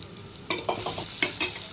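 Vegetables sizzle in a pan of hot butter with chopped garlic, with a few brief bursts of frying as they are stirred.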